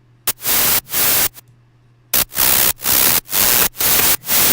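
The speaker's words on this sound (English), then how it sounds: "you can hear some of the white noise and stuff right there" A synthesizer white noise sample plays in rhythmic bursts, a loud broadband hiss chopped on and off in a regular pulsing pattern with short silent gaps and a faint low hum between, no voices.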